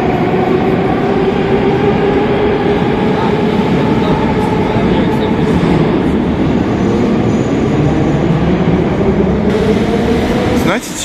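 A Moscow commuter train or metro car rumbles loudly and steadily with a constant roar and whine throughout, easing slightly at the very end.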